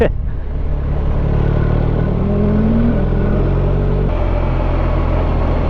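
A 2021 BMW R1250RT touring motorcycle cruising at steady speed, following another rider, with a constant low engine drone and heavy wind roar close at hand, a faint rising whine midway, and no talking.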